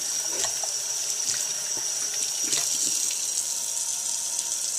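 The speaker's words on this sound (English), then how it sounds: "That's why I like to do them outside and hold them with my hand and then just rinse it off like this." Tap water runs steadily outdoors while dishes are rinsed by hand, a continuous close splashing hiss with small clinks and splatters scattered through it.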